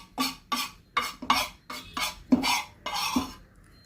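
Turmeric is stirred and fried in a pan, slowly darkening toward black, with a spoon scraping the pan in about eight quick rhythmic strokes, close and clear with no talking.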